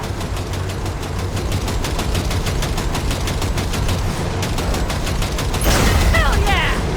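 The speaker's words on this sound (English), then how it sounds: "V, shoot out the damn coupler" Rapid automatic gunfire fires in a steady fast rhythm throughout, aimed at a train coupler in the Cyberpunk video game, close and loud over a low engine rumble, with a burst of louder noise near the end.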